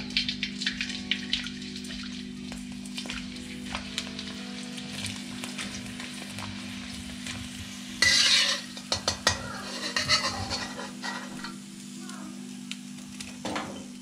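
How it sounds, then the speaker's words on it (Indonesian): Krupuk crackers frying in hot oil in a home kitchen, a steady soft sizzle under a low hum, with scattered clinks of utensils and a brief louder burst of crackling partway through. "Sekarang aku masak kerupuk."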